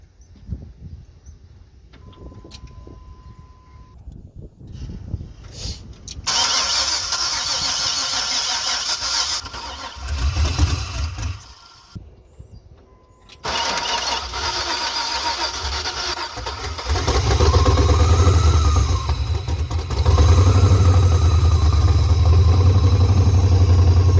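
An LS-swapped OBS pickup truck is started on starter fluid. The starter cranks in bursts, then the V8 catches and revs to a loud, rough idle that holds to the end.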